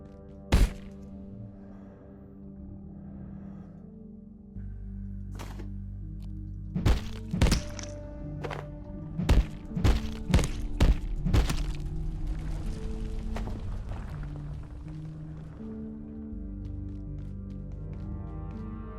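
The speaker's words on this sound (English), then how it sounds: "I will admit, this disc gun is pretty effective." A disc gun fires in Abiotic Factor, giving sharp thunking impacts: one near the start, then a quick cluster of several in a row over a low, steady background hum.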